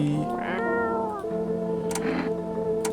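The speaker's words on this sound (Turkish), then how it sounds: "Kedi." A cat meows close up in drawn-out, wavering cries, two long calls within a few seconds, loud and alone with no talk.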